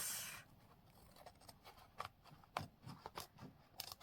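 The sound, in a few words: scissors trimming a craft project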